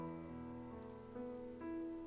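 Steady pouring rain in the video game CHAOS;CHILD, a continuous wash of falling water layered with sustained musical tones and no voices.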